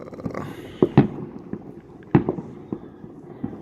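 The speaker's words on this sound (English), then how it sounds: "They're going off in town again." Private fireworks bursting over a Russian town on New Year's Eve, a handful of sharp cracking bangs at irregular intervals, moderately distant, with a low rumble of crowd and street noise between them.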